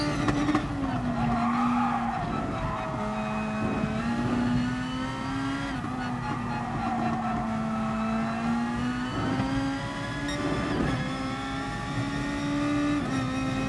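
Race car engine in Gran Turismo Sport on medium tyres, a steady loud drone that rises and falls with gear changes and revving, with occasional tyre skids, continuous throughout.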